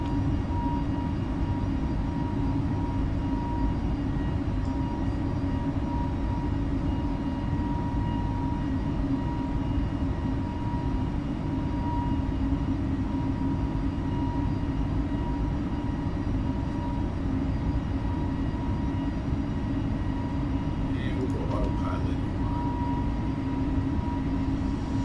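A steady, loud airliner engine roar climbs out of DC in Microsoft Flight Simulator 2020, an unbroken broadband drone with a faint tonal whine and no talking.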